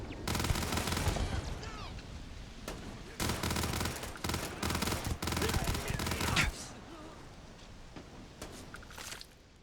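An automated turret firing in Starfield, loud repeated bursts of rapid fire separated by short gaps before it fades into quieter sounds, with a voice talking intermittently.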